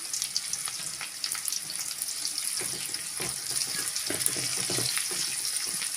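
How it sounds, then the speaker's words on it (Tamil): Chopped onions with a sprig of curry leaves sauté in a pan for a Tamil vallarai keerai paruppu kadaiyal, giving a steady, close sizzling hiss that runs throughout with small crackles and stirring clinks, with no talking. "வெங்காயம் நல்லா வதங்கி வரட்டும்"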